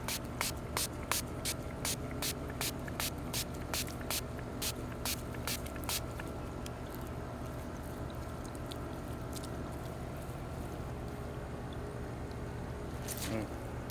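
A steady hiss of liquid degreaser spraying, beginning as a quick series of short bursts and then settling into a continuous spray over a low background rumble.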